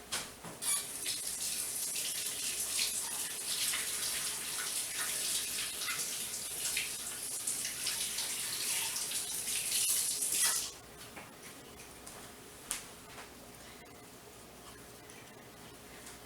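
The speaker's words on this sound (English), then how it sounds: "I don't think it busted, but I think I'll rinse it off just to be safe." Tap water runs steadily from a kitchen faucet over an egg for about ten seconds, loud and close, then shuts off, leaving quieter drips and small handling sounds.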